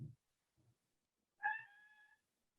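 A cat gives a single drawn-out meow indoors during an acrylic painting lesson, loud and close, with a couple of faint low thumps before it and no talking.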